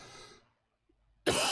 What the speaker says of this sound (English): Oh, bad time to cough.